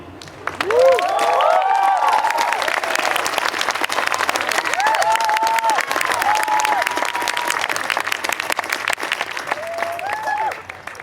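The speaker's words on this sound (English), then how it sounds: "We're supposed to hold our applause, but we can let it go." A commencement audience at a university architecture ceremony breaks into sustained, loud applause with scattered cheers and whoops, a dense wash of clapping that holds steady for about ten seconds before trailing off.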